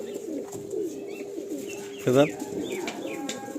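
Soft, repeated cooing from Teddy pigeons with ringed eyes fills the background, close and steady, while someone speaks a single brief word partway through.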